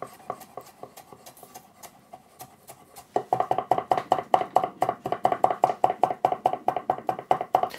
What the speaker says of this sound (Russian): Теперь все это нужно нарезать соломкой и потом кубиком.